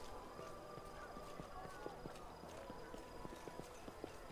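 Horse hooves clip-clop at a steady trot in the video game Pathfinder: Wrath of the Righteous, a quick rhythmic run of faint thuds heard under talking in a quiet scene.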